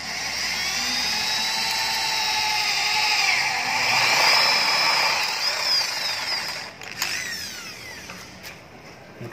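A power drill bores into iron with a high, whining drone whose pitch rises and falls as the bit bites. A few sharp clicks sound near the end, with no talking.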